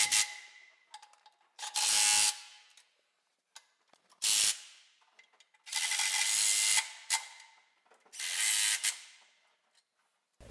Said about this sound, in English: you begin to torque the bolts, do the sides first, then move to the middle bolts and torque them all